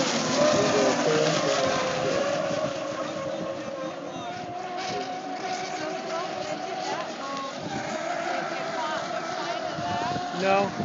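Electric scale-model unlimited hydroplane boats racing in a memorial final heat, a steady high whine of motors droning near and far across the water, with people talking throughout.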